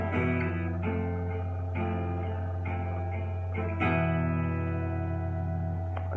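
An intro played on an effects-processed guitar, slow arpeggiated notes ringing with chorus and reverb, phrases repeating about every second with a steady low drone beneath, alone and fairly loud.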